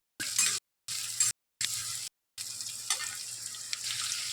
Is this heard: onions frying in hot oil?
yes